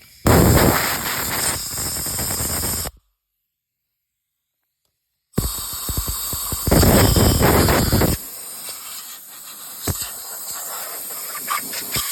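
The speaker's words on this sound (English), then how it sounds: "I'm gonna blow these little holes out because they're all crap in them." Compressed air blasts debris out of bolt holes during a timing belt and water pump job at home, making loud, close hissing bursts that stop for a couple of seconds, then resume in longer and shorter spurts.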